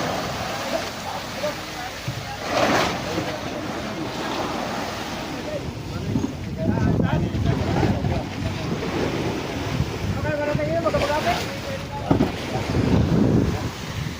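Waves surge and slap around a new boat on the Pacific Ocean as the swell builds, amid gusty wind buffeting the microphone, with voices faintly underneath.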